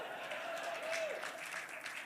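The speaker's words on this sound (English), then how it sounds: "Yes, he does deserve that applause." Audience applause at the PGA Awards ceremony for a film producer, a faint, distant wash of clapping from a large hall, with a voice briefly audible over it.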